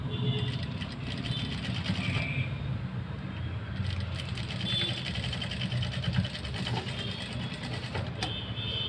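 Sewing machine stitching patchwork blouse fabric, a steady low mechanical whir running throughout at moderate level with faint clicks, no talk over it.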